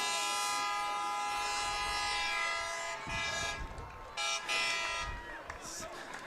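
A loud truck horn blares in long sustained honks at a Rhinelander at Mosinee high school football game, cutting out briefly and then resuming over crowd noise.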